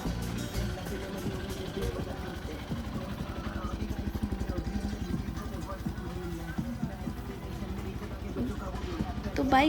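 Rented motorbike carrying riders toward the Hidimba Devi temple in Manali, its engine pulsing in a steady rhythmic chug close by for the whole stretch, with a voice talking over it.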